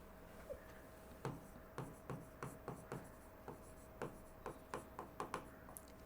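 Pen or marker strokes scratch quickly on a surface as a biology teacher writes a label by hand, a close, quiet run of short rhythmic strokes with no talk.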